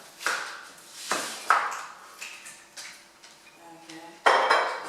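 Metal pans and utensils clatter and clink on a stovetop while olive oil and butter heat in a frying pan for risotto, in a series of separate knocks, with one louder clang near the end.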